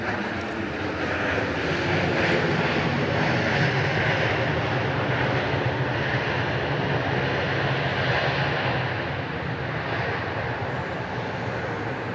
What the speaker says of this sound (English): Southwest Flight 1361, that's a 737-800 coming in from Lubbock, Texas